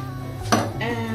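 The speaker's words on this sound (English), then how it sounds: "And we keep on stirring." A spoon scrapes and clinks in a pan of cheese sauce for cauliflower cheese, a sharp metallic knock near the middle followed by softer scraping, close up over a steady low hum.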